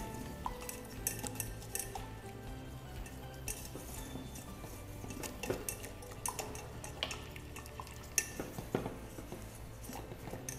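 A spoon stirs a warm mixture of flavored cream and chocolate in a bowl, giving light, irregular clinks and taps against the dish throughout.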